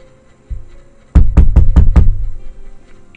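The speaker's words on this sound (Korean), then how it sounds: "문을 두드리는 소리에" Five firm knocks on a door, evenly spaced and close, follow a soft thud, with quiet room tone before and after in a horror radio story.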